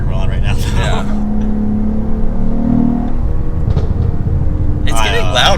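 Cadillac CT4-V Blackwing, a 2022 model, pulls steadily while being driven, its engine a continuous loud drone with a rising tone in the middle, heard close up from inside the cabin under speech at the start and end.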